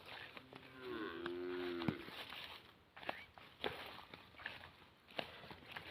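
Cattle and calves on a farm moo: one drawn-out, nearby low call, then scattered rustling and footsteps with faint animal sounds in the open air.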